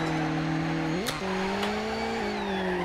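Car drifting in CarX Drift Racing on a new city map, with a steady loud engine drone whose pitch dips and climbs through the slide, over a constant hiss of tire noise and a couple of brief sharp clicks.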